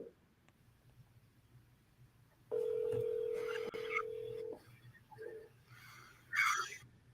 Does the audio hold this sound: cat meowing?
no